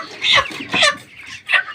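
Farm chickens clucking close by, three short throaty clucks spaced over under two seconds, fairly loud and clear.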